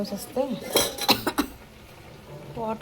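Dishes and pots being washed in a small home kitchen, with several bright clinks and clatters of metal vessels knocking together close by, bursts of handling separated by brief pauses, while someone talks over it.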